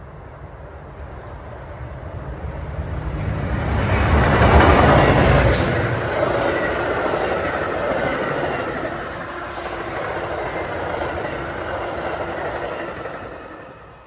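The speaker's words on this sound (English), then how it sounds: "The next outbound train approaching your station will not stop." An outbound commuter train on the Union Pacific West line sweeps through Lombard station without stopping, a broad rushing roar that swells to a peak and then holds as the cars rumble past, with faint wheel clatter and squeal.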